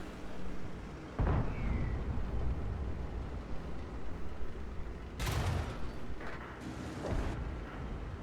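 Heavy booming cannon blasts from a Leopard tank in a video game punctuate a constant rumbling background, with several loud shots spaced seconds apart, during a defence at Malynivka.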